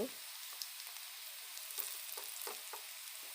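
Ground turmeric, dried red chilli and Kashmiri chilli powders fry in hot oil for a drumstick dish, giving a steady soft sizzle with light scraping stirs, fairly faint and with no talking.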